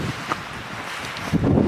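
Strong wind blows across a mountain slope at Mount Fyffe, a steady rushing roar with a stronger gust swelling near the end.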